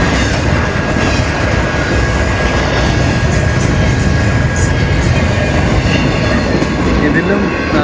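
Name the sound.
long train passing in Yosemite area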